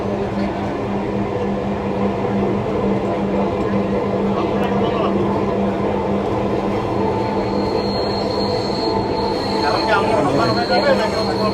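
A Dhaka metro rail train runs steadily with a loud, constant rumble and wheel noise throughout, and a thin high squeal rises near the end.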